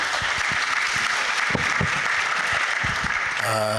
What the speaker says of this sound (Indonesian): Kita beri aplaus dulu untuk Bapak Sumantri.